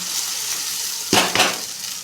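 Rice with tomatoes and vegetables fries in a pan with a steady, loud hiss, broken by two quick stirring scrapes near the end.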